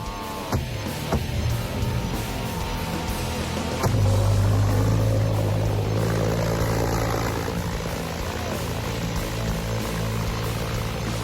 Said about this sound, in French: Carburant plus air plus étincelle égale moto convertie en V1.